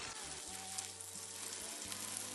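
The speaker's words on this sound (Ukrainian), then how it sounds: "Так по черзі вбиваємо до наших томатів яйця" Steady close sizzle of tomatoes frying in a saj pan for shakshuka as eggs are cracked in one after another, a dense continuous crackle with no talk.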